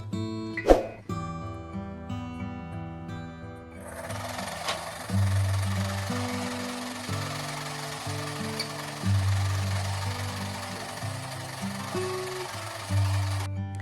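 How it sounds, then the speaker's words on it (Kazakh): Home sewing machine running a zigzag stitch along the raw edge of fabric for a decorative cushion, a steady mechanical whir in several long bursts with brief pauses, close and fairly loud, no talking. "Менде оберловка жоқ болғандықтан зигзагпен жиегін тағы бір тігіп аламын."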